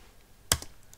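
A single sharp keystroke on a computer keyboard while entering a database command, one loud tap with a faint follow-up click, close and alone in a quiet room.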